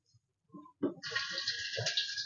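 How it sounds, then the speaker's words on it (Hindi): Water runs from a washbasin tap on a train, a steady hiss of flow starting after a few soft knocks and continuing near and moderately loud, with no talking. "पानी भी आ रहा है।"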